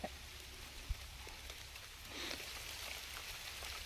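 Rain falls steadily outdoors in a village, a soft, even patter that grows slightly heavier toward the end, with one brief knock early on and no talking.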